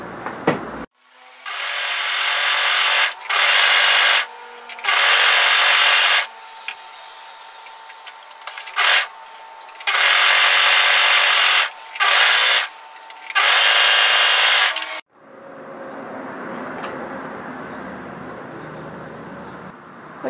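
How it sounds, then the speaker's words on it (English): An overlocker serges the curved edge of a woven-fabric cape in several loud whirring bursts separated by short pauses, followed by a quieter stretch of fabric handling near the end. "Just follow that curve up as you overlock and make sure you don't run over these pins."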